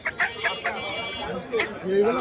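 A 4.5 kg rooster at a traditional animal market clucks and calls in short repeated bursts, with crowd chatter and bustle from the market around it.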